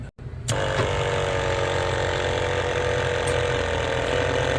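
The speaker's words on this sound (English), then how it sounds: "you should hear this pump kick in and prime. It'll run for a few seconds or maybe a minute while it primes the vacuum system." Vacuum pump on a 2014 Berkshire 360QL diesel motorhome kicking in with the key on and engine off, a steady mechanical whir and rattle that starts abruptly and runs continuously, close and alone.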